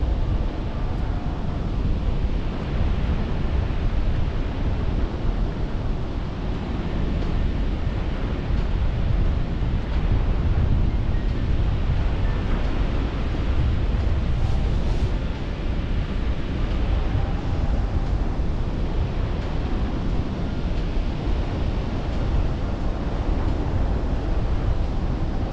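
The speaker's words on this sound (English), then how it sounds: "So there's 300 feet of wind underneath the wall of this cliff." Strong wind rushing up the face of a 300-foot sea cliff while paragliding, a continuous loud roar with heavy low buffeting that holds steady throughout, with surf-like wash and no talk.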